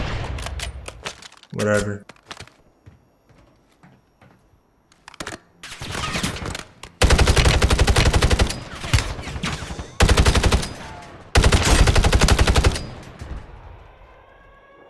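Gunfire from Call of Duty on Rebirth Island: scattered single shots early on, then long, loud bursts of rapid automatic fire, with a person talking in between.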